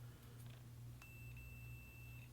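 A multimeter's continuity tester gives a single sustained electronic beep partway through, clear but fairly quiet over a low background hum, while testing the ground on a vintage Fender Telecaster.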